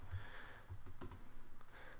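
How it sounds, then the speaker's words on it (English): Soft, rapid keystrokes on a computer keyboard, a quiet irregular patter of light clicks with a few firmer taps, close by and without any voices. "typing the class name"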